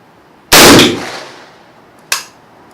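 Two rifle shots firing rounds, a loud sharp crack with a long decaying echo followed about a second and a half later by a second, quieter report, close and alone.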